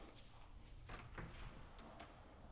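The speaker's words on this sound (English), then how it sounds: "So you close the door and open it." A cabinet door in a luxury home's storage area closes and opens, giving a few soft knocks and a faint slide over quiet room ambience, with no talk.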